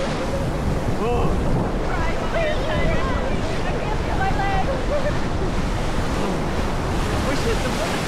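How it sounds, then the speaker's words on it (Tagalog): Ocean waves break at the beach in a constant loud roar of surf mixed with gusty wind rumble on the microphone, while people shout and talk nearby. "The waves are actually so good."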